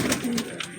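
Pigeons coo nearby in a brief, soft, throaty call with a couple of low rounded notes.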